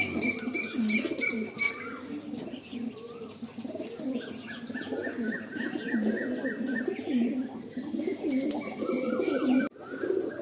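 A loft full of pigeons in Behala, including a kalsira pair, coos in repeated throaty rolls with scattered chirps and a brief flutter of wings, dense and close throughout.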